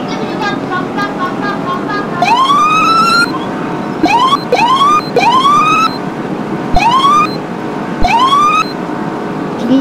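Emergency vehicle sirens in the Roblox game Greenville sound in repeated rising whoops, several overlapping bursts over a steady background wash, loud and close.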